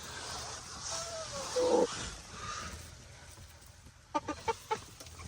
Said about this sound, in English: These chickens are so funny.